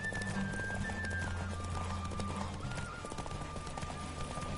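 Hoofbeats of Roach, a horse galloping flat out in a race in the video game Witcher 3, pound in a steady rapid clip-clop beneath continuous game music and ambience, with a brief whinny.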